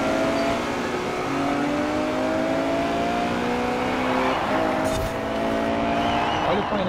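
A Ferrari SUV engine revs hard through gear changes during a Forza Horizon 4 street race, rising pitch sweeps repeating with a brief tire screech near the end, while someone talks over the continuous roar.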